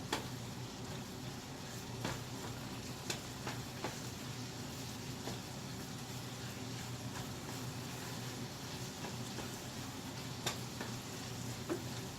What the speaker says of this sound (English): Let it keep on frying.